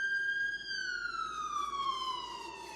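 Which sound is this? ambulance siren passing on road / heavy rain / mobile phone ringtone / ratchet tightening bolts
ambulance siren passing on road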